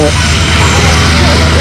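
A Stearman biplane's radial engine drones loud and steady at an air show, a continuous close roar with a commentator's voice talking over it.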